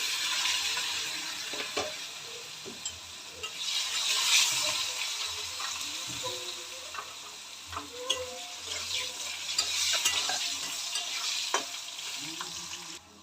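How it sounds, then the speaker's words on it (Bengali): Potatoes sizzle in hot oil in a home kitchen, a steady broadband frying hiss with intermittent crackles and stirring clatter for preparing a boal fish curry, close and continuous with no talk. "এই যে আলু দিয়ে দিলাম তেলে"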